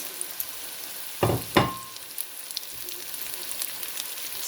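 Carrots tossed into a hot pan with onions and meat, a steady soft sizzle broken by two sharp stirring clatters early on, then crackling continues evenly without talk.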